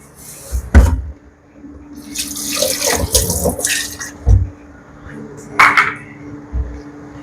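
Water runs from a kitchen tap into a sink while something is rinsed during home cooking, heard as intermittent splashing bursts with a few knocks and clatters, close and fairly loud, with a voice now and then.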